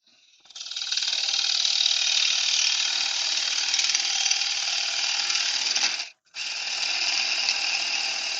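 A half-inch bowl gouge cuts wood on a spinning lathe, making a steady hissing, rasping scrape that breaks off once briefly and then resumes.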